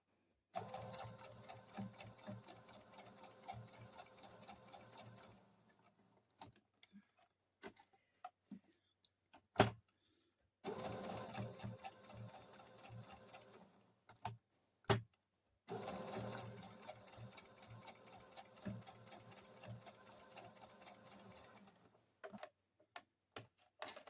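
A sewing machine stitches a T-shirt quilt in several bursts of rapid, even needle chatter a few seconds long, separated by quiet pauses with scattered clicks and handling knocks.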